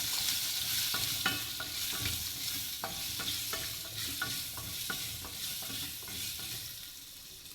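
A spoon stirs turmeric, chili powder and salt into a pot of pumpkin sambar, giving a quick series of soft, regular scraping taps over a faint steady sizzle, close by and with no voices.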